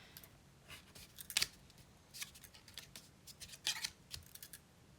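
Scissors snipping paper for a desk-set craft project: several short, crisp cuts at an uneven pace, close up and quiet, with no talking.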